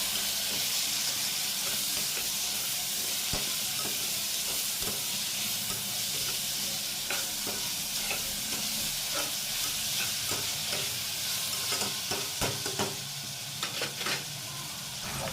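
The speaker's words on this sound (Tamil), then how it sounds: "இப்போ நல்லா வதக்கி விட்டுக்கலாம்." Onion, tomato and green chili sauté in a hot pan, with a continuous close sizzle and hiss broken by scraping, clinking stirs, growing busier toward the end.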